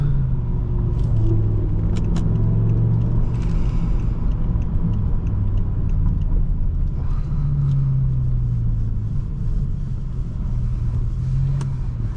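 A 2007 BMW M6 with a V10 engine drives smoothly after warming up, heard from inside as a steady low rumble with mild engine drone and road noise throughout.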